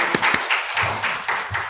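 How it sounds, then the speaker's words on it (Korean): Church congregation applauding during a Sunday worship service, a short burst of brisk overlapping claps from a modest crowd, fairly near and lively with no talking. "하나님께 영광의 박수를 올려드립니다"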